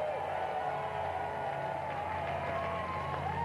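Steady crowd applause and murmur fills a minor league baseball stadium during a Winnipeg Goldeyes versus Sioux Falls Canaries game, a continuous moderate wash of clapping and crowd noise with no clear peaks.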